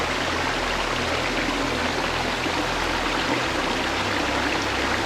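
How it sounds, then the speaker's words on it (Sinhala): A steady, dense rush of flowing stream water near a forest waterfall at Bathwadigala, constant and close, with no other sounds. "වතුර සද්ද."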